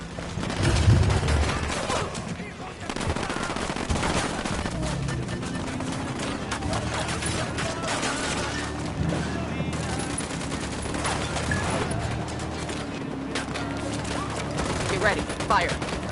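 Gunfire rattles through a PS4 shooter firefight, dense bursts and rapid shots packed together with a heavy thump near the start, continuous loud combat noise throughout.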